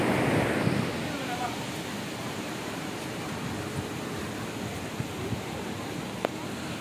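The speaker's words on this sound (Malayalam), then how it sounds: "ആ ഒരു കുത്തനെയുള്ള ഇറക്കത്തിലോട്ട് വെള്ളം പതിക്കുന്നതാണ്. അതാണ് തൃപ്പരപ്പ് വാട്ടർഫോൾസായിട്ട് പിന്നെ രൂപപ്പെടുന്നത്." Steady broadband roar of Thripparappu waterfall with water plunging down a steep drop, a continuous rushing wash heard from a moderate distance with no breaks.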